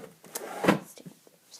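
A craft table drawer, the last one holding embellishments, slides open in a quiet room with a single short wooden scrape and bump, followed by faint small rattles.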